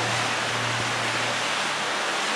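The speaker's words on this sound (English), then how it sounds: "I'm sorry if it's kind of noisy, the flow of the water, me splashing around the water" Water flowing steadily with splashing as a person wades and moves around, a continuous broadband rush filling the short clip at close range with no voices.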